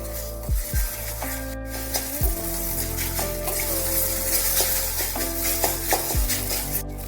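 Egg bhurji, broken into small pieces in ghee, fries in a wok as it is stirred, giving a steady close sizzle with scraping strokes of the spatula scattered through it and no talking.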